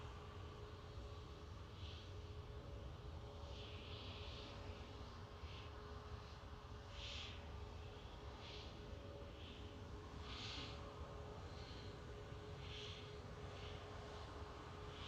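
An EasyJet airliner from the Isle of Man touches down at Manchester Airport, a steady distant roar of jet engines sustained throughout with a broad hiss and no voices.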